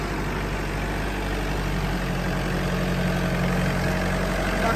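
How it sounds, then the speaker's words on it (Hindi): Farmtrac Atom 35 tractor with a four-cylinder engine idling nearby, a steady low rumbling drone with constant vibration and no other sound. "चार सिलेंडर इंजन है ये"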